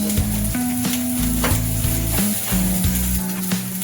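Garlic and ginger frying in hot oil for a chicken green masala, a loud continuous sizzle close up with a steady spitting crackle and no talk.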